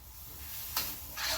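Soft sizzling and scraping of chicken and zucchini being stir-fried in a hot pan, with two brief louder hissing bursts; no talking.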